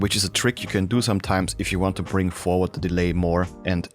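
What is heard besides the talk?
No everyday noises stand out.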